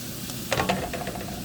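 Mixed vegetables sizzle in a hot pan while being stir-fried for shrimp fried rice with bean sprouts, a steady hiss broken by a few scraping stirs.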